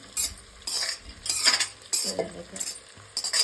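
Okra being mixed in a pan produces rhythmic bursts of scraping and clinking from a utensil against the metal, separated by short pauses, over a faint sizzle.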